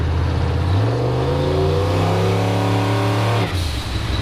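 A turbocharged 5.3 LS V8 in a bagged Chevrolet S10 mini truck with a 4L80E transmission on the highway, a loud, steady engine drone from inside the cab with a rising whine that eases off near the end.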